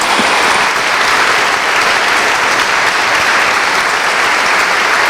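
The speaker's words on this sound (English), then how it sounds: "So let's just give a hand clap to those folks." An audience at a book event claps steadily and loudly for several seconds, a dense wash of hand claps with no voices over it.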